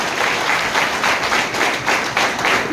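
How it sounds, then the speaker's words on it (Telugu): An indoor hall audience applauding during a speech event, a dense wash of clapping from many hands that swells in gentle waves and carries on steadily. "అప్లైన్ కి ఒకసారి give them big round of applause"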